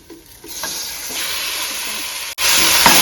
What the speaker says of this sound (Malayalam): ഇഞ്ചി വെളുത്തുള്ളി പച്ചമണം മാറിയ ശേഷം നമ്മൾ കഴുകി വെച്ച ചിക്കനാണ് അടുത്തതായി ചേർത്ത് കൊടുക്കാൻ പോകുന്നത്